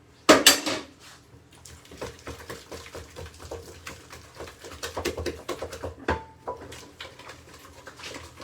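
A wooden spoon stirs flapjack ingredients in a bowl, starting with a sharp clatter and then settling into a steady rhythm of soft scrapes and knocks against the bowl, close and fairly quiet.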